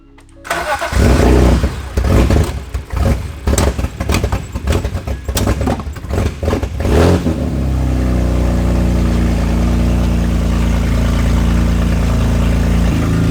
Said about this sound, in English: it was time to see if the car started and if the gears engaged